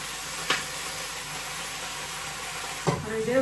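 Vegetables with cumin, coriander, green chillies and turmeric sauté in a pan with a soft steady sizzle, broken by two clear scraping clinks of a spatula against the pan.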